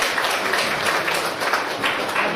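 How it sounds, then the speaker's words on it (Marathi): An audience at a gathering claps for a former vihara president, now women's president of the Gautam Mahasabha, with sustained, fairly loud applause throughout. "त्यांच्यासाठी एकदा जोरदार टाळ्या होत्या."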